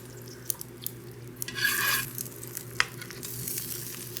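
Oil sizzling in a hot cast iron pan: a faint, steady hiss with a louder surge of sizzle in the middle and scattered ticks and pops, alone without talk.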